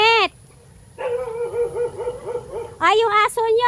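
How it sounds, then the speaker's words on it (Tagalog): A dog at a rural house in Bicol barks and yips in short, close, loud bursts with brief whimpering between them, while people nearby call out and talk. "Ay, yung aso nyo!"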